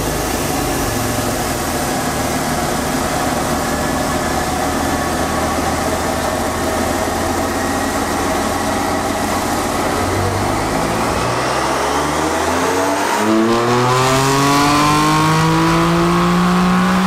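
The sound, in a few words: BMW F82 M4 engine revving during dyno pull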